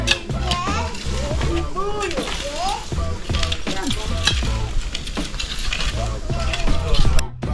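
Okra sizzling and being stirred in a frying pan, a steady loud crackle with scraping stirs throughout, while people talk nearby.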